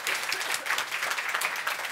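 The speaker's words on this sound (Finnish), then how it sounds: "annetaan aplodit" Seminar audience applauding steadily for two seconds, a dense, even wash of many hands clapping without pause, fairly near and with no talk over it.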